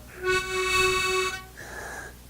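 A harmonica sounds one bright sustained note, followed by a softer breathy tone as air leaks out the side of the lightly held mouthpiece, played alone and close.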